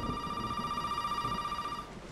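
A telephone rings in the horror game Resident Evil 7, a steady electronic trill that continues for about two seconds before stopping, heard alone against low ambient noise.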